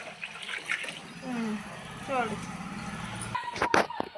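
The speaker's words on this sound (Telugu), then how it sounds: "దీనిని బియ్యానికి సరిపోయేంత వాటర్ అయితే పోసుకోవాలి" Water poured into a cooking pot for making pulao rice, a steady splashing stream running under continuous talk, with a few sharper knocks near the end.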